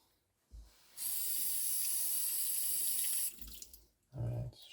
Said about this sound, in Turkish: Gördüğünüz gibi kirli su akıyor.